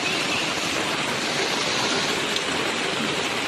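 Heavy rain pours down in a steady, dense hiss, constant and close, with no voices.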